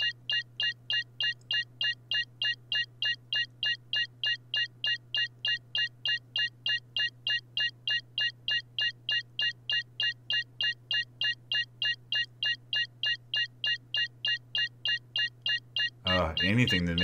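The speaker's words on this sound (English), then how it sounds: "Anything to make that beeping stop, though." Warning beeps inside a spaceship cockpit in the game Star Citizen, a rapid evenly spaced electronic pulse repeating loudly for about sixteen seconds over a constant low hum, cut off by a burst of noise at the end.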